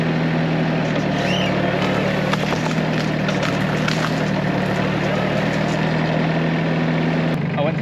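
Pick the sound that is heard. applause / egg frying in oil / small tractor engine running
small tractor engine running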